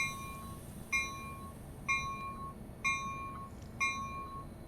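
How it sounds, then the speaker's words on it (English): Train door closing warning in Train Sim World 3 sounds as a series of five evenly spaced electronic two-tone beeps, clear and moderately loud over a low background hum. "Caution, the doors are about to close."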